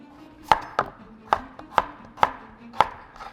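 A knife chops potatoes on a cutting board, giving six or seven sharp, close knocks in an uneven rhythm roughly half a second apart, with no voices.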